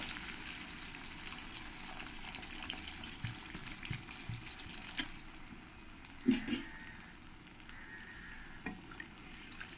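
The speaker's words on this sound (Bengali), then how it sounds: "এবার আমি জল দিয়ে দেব।" Water poured into a pan of chicken curry with potatoes, producing a continuous watery hiss and bubbling sizzle with a few louder splashes and clatters, heard close and alone.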